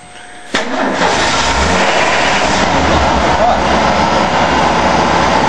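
A 1988 Ford F150 parts truck engine bursts into life with a sudden loud catch, then settles into a steady, close, rough running roar that holds for several seconds.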